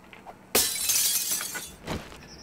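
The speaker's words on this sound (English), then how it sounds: "So what we'll do is we'll break down the windows." Window glass shatters in the zombie survival game 7 Days to Die, a sudden loud crash followed by tinkling shards and a second smaller break, with no speech.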